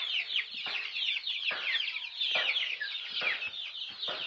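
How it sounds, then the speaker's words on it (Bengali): Several chickens of mixed breeds cluck and squawk steadily in a farm coop, a near, continuous chorus of overlapping calls with regular short pulses and no speech. "আর অনেক জাতের মুরগি হচ্ছে এখানে।"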